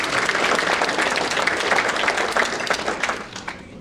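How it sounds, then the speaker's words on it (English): Loud audience applause for a guest at an event, dense continuous clapping for about three seconds before fading out quickly. "please, round of applause for Dick Lee first"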